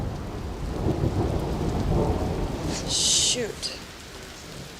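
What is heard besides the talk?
thunder and rain during a storm at Yellowstone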